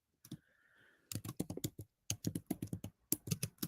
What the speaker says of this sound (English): I'm just typing a message to anyone who's joining us